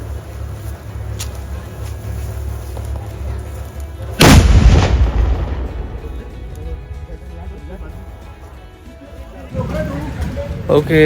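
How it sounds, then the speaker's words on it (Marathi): A single loud gunshot is fired outdoors as a warning signal to a village during the Achara village gavpalan custom. The sharp blast is followed by a rumbling decay over steady outdoor background noise. "बंदुकीची गोळी मारली त्यानंतर तो फुडवली आणि आता अख्ख्या गावाला इशारा केलाय"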